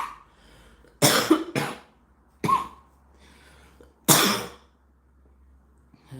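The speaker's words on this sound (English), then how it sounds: "I apologize for this cough." Several harsh, loud coughs from a person close by: a pair in quick succession, then a single one, then another strong cough, with quiet pauses in between and no talking.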